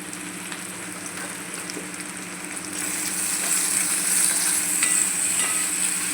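Chopped onion fries with salt in a pan for a soybean and potato curry, a close, continuous sizzle that grows louder and brighter partway through, with no voices.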